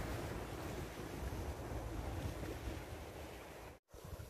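Sea waves wash ashore at Hac Sa beach in Macau, a continuous broad surf roar mixed with wind rumble, broken by one brief dropout near the end, with no speech.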